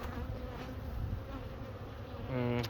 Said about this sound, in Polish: Pszczoły coś latają